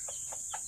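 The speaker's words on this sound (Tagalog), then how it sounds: "Yan ang sisiw." A chick gives three quick, thin peeps in succession, faint and close against a quiet hiss, with no talking.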